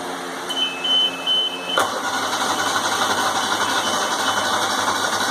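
Walker mower engine, just after a carburetor cleaning and with the choke on, cranked with a whirring ratchety starter until it catches and settles into a steady, loud close-up running drone.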